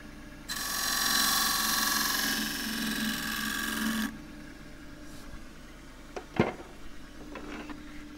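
A skew chisel cutting eucalypt burl on a wood lathe, producing a loud, close, buzzing scrape that lasts about three and a half seconds and then stops, followed by a few faint knocks.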